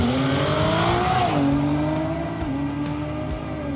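A 1500hp all-wheel-drive BMW M240i with a turbocharged inline six revs loudly and close by, its pitch climbing and then falling back into a steady, raspy drone.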